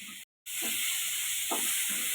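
A ginger and onion spice paste with coriander and chilli powder sizzles steadily in a pan for a Bengali fish curry, a loud constant hiss broken by a short gap and a few soft stirring scrapes.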